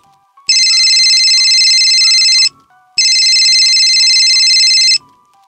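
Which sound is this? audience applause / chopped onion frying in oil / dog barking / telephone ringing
telephone ringing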